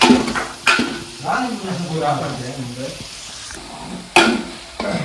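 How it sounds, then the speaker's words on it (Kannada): Onions fry for biryani in an idli steamer pot, a steady sizzle broken by loud scraping stirs of a utensil against the metal, close up, with a voice speaking over the cooking. "ನೀರುಳ್ಳಿ ಬೇಯ್ತಿತ್ತು, ಬರೀತಿತ್ತಾನೆ ಫ್ರೈ ಆಗ್ತದೆ."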